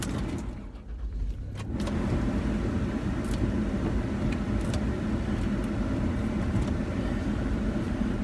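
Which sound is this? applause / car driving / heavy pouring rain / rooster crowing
car driving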